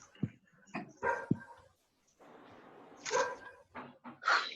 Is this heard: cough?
no